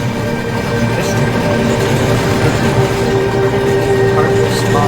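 A model train runs along its track in the video game Rolling Line, a loud, continuous rumbling clatter with steady tonal hums and no pause throughout.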